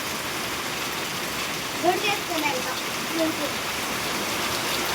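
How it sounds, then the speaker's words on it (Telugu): Steady heavy rain hisses throughout, a dense, even wash of noise, with a faint voice murmuring briefly in the middle. "ఫుల్గా పడేస్తుంది వర్షం"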